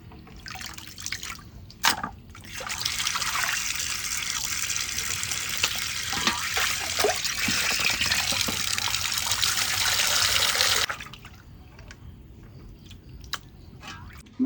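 Mutton pieces are rinsed under running water, a loud continuous rush of splashing and dripping up close for about nine seconds. It then drops away to quiet handling sounds, with no talking.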